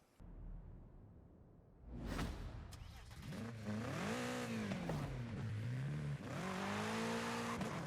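A BMW M8 Competition in Forza Horizon 5 roars up after a quiet start, revving hard with rising and falling engine pitch through gear changes, loud and close, with a whoosh and tire noise and a voice talking over it.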